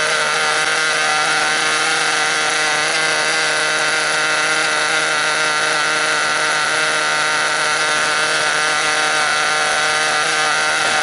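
A small engine running steadily at high speed after carburetor tuning, its fuel mixture richened. It gives a loud, constant high-pitched buzzing whine with no change in pitch from start to finish, close and alone.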